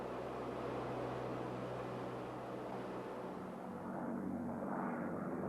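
A DC-3 airliner flies past at an air show, its engines giving a steady, loud, broad roar that stays even throughout, with no voices over it.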